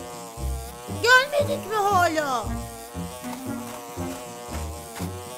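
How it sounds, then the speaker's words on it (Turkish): A cartoon bee buzzes in sweeping, rising and falling tones over bouncy background music, while a voice speaks briefly. "Oh, işte bir buzbuz arı."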